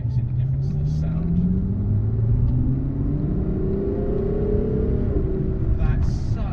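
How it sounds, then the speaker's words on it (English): A Ferrari FF's V12 in sport mode hums smoothly from inside the cabin, a steady rumbling drone with gently rising revs as the car accelerates, continuous and fairly loud. "That's such a smooth, silky sound. It's that amazing V12 from Ferrari."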